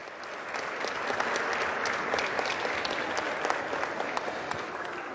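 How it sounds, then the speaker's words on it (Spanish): A crowd at a women's volleyball mega-event in Arequipa applauds the Central Vóley Coquimbo team from Chile, with a dense, steady roar of many hands lasting several seconds and staying loud and even throughout, with no talk over it. "les damos un caluroso aplauso al equipo Central Vóley Coquimbo de Chile"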